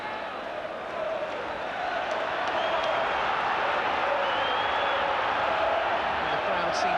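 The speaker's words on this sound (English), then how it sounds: "And the crowd seems to have responded to that as well." A football crowd at a Sunderland home match early in the second half gives sustained applause and a low cheering roar, a broad wash of distant noise that swells slightly after the first second.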